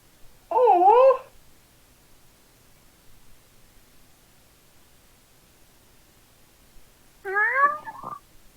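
A cat meows twice in a quiet basement, each call clear and close, with a long silence between them.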